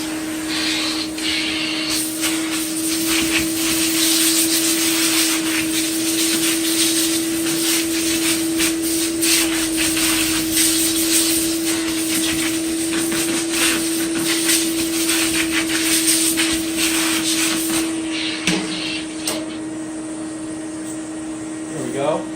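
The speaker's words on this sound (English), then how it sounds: "I use my shop vac and kind of suck it clean as best I can do." A shop vac sucking dust out of a Shark upright vacuum filter, a loud continuous whining roar with a steady tone, close and unbroken for most of the clip, easing near the end as it shifts.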